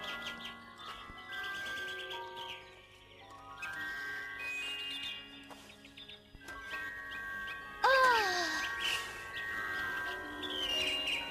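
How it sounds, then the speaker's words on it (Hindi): Birds chirp and tweet in clear, repeated whistling calls, some sliding downward, over a soft steady background, with one louder burst of song near the end. "चिड़ियों,"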